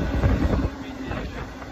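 A freight train rolls on the run from Oakland to Roseville, heard from aboard. It makes a loud, close, continuous rumble and rattle, heaviest at the start and then steadying.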